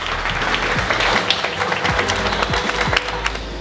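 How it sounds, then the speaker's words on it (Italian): An audience greets car designer Horacio Pagani with a burst of steady applause, dense clapping from a crowd filling the room at close range, with no talk over it. "let's give a big round of applause to Mr. Horacio Pagani"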